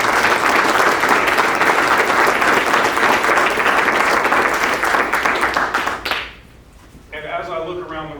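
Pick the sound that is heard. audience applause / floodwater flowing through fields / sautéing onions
audience applause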